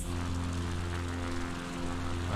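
A Piper Cub propeller plane drones steadily in a flight simulator game on a windy day, its engine a constant, loud hum with a low tonal throb and no pauses or talk.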